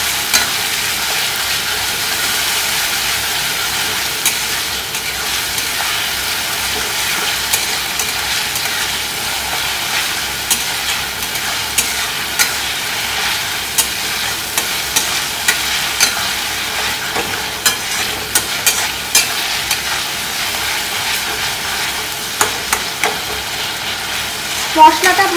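Tomato frying in a pan with ginger and garlic, stirred steadily: a continuous close sizzle with a constant hiss and scattered crackles and scraping throughout, with no voices.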